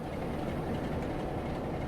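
A Class 08 shunter locomotive creeping slowly out of Blackpool North in Train Sim World, a steady low diesel rumble and wheel noise continuing without a break.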